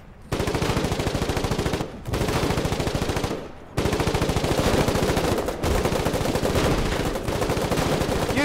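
Machine gun fire in the war game Foxhole, long sustained bursts of rapid loud automatic shots close by, broken by a few short pauses between bursts.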